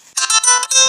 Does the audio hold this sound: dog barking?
no